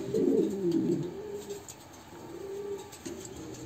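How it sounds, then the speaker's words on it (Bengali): Pigeons, breeding pairs kept for sale, give low, soft cooing calls nearby, one strong coo at the start and quieter ones following. "ভিডিওর মধ্যে যে 3 জোড়া কবুতর দেখানো হলো"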